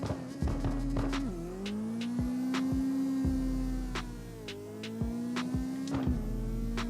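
A tuned, max-horsepower car in the CarX Drift Racing video game pulls away with a steady engine drone that rises and holds through gear changes, punctuated by sharp clicks and knocks, with no talking.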